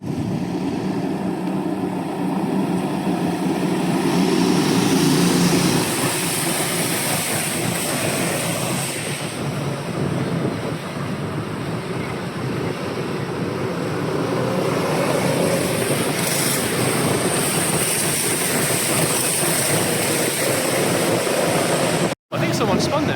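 A field of ten cadet go-karts races on a mighty wet track, with a sustained engine roar and hiss of spray heard from trackside, rising and falling as karts pass, under occasional talk.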